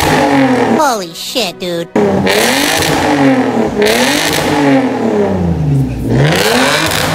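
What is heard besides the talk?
Lexus GS300 2JZ engine revving with Megan Racing exhaust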